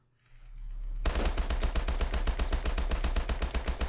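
Rapid automatic gunfire in the video game Call of Duty Advanced Warfare starts after a second of near silence, then a loud, steady stream of shots continues without a break.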